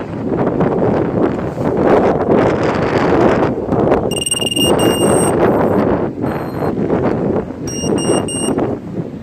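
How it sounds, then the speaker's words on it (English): Strong outdoor wind buffets the microphone in a steady, loud roar while a Tarot 130 brushless micro quadcopter flies, with faint high electronic beeping tones breaking through in short bursts. "Hope I don't crash in all this wind out here"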